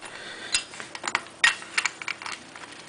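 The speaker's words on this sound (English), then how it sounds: "Take your 17mm wrench and slip it onto that nut right there," A 17mm wrench clicks and ticks as it turns the nut on an Elcon clutch, a close run of light, sharp metallic taps with no speech.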